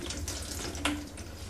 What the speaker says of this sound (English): loosen this up and let the water drain back out